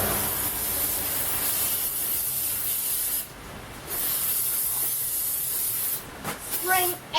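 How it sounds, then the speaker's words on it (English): Carb cleaner sprayed from an aerosol can onto an LS junkyard engine being prepped for a swap, a loud continuous hiss broken by a short pause, then sputtering bursts as the spray ends. "Spraying everywhere."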